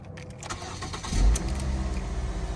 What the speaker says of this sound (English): now we're gonna start engine